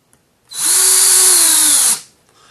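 A power drill drives a screw into a wooden picture frame, one steady, loud, close high-pitched whir of about a second and a half that ends abruptly.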